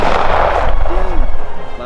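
A single loud gunshot from a nickel-plated 1911 pistol rings out at close range and is followed by a brief decaying echo, with some low background noise.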